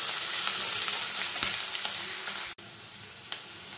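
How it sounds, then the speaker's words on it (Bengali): Garlic, ginger and onion sizzling in hot oil in a pan for a boal fish curry, a steady crackling fry with light stirring clicks and a brief sharp knock partway through. "রসুনটা হালকা করে ভাজা হয়ে গেছে"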